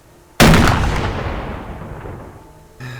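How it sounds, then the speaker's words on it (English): A gun round sets off a Claymore explosive inside a cave in the survival game Subsistence: a single sudden loud blast that rings out in a long fading rumble, with a brief new noise at the end. "that's a huge popping gun hitting a Claymore"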